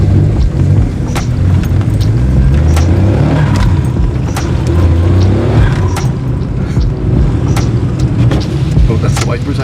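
A Daihatsu Mira's small engine drones loud and close from inside the cabin while driving, a steady low rumble with road and wind noise and intermittent clicks, while people talk over it.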